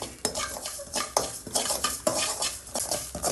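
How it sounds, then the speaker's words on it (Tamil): Salt and tamarind dry roasting in a pan for curry leaf podi, with repeated scraping and clinking strokes of a spoon against the pan in an uneven rhythm, close and fairly loud. "உப்பும் புளியும் சேர்த்து வறுத்துடலாம்"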